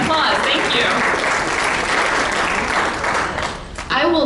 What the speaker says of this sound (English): yes, applause, thank you